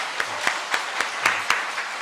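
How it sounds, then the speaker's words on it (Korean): A church congregation at a revival meeting applauds together in a steady rhythmic beat of about four claps per second over a bright wash of scattered claps, with no voices. "박수 한번 주셨으면 좋겠습니다"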